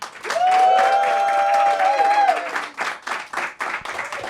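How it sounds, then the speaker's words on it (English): Studio audience at a New York roast battle comedy show claps and cheers loudly, a dense burst of applause with whoops that thins into scattered clapping toward the end. "Clap it up. Make some noise if you think Sarah Barnitt won this roast."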